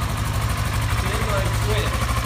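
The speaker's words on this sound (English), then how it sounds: "Let's fire it up, see how it fires up. Fired up good, like you would expect." A 2008 Kawasaki Versys 650 motorcycle idles steadily right after starting, a close, even low engine rumble with a voice talking over it.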